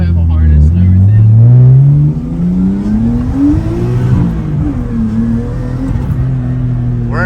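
A loud Nissan R32 Skyline driving in Mexico, its engine droning low and steady with rising and falling revs throughout, with someone talking over it.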